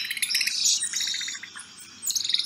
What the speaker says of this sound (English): Their bird-like chirps allow the group to stay in contact so that no one gets lost in dense jungle.